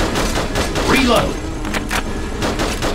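Triple gunshot bursts in the arcade shooter Attack of the Movies, played on a Wii emulator: quick, loud clusters of shots in rapid succession, with a voice speaking over the gunfire.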